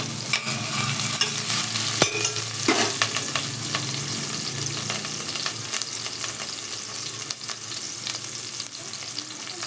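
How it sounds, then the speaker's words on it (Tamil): Green chillies sizzle steadily in hot ghee, a constant crackling fry with occasional spoon stirs and scrapes, close up and with no voices. "பச்சை மிளகாய் போட்டுக்கலாம். கொஞ்ச நேரம் ஃப்ரை ஆகட்டும்."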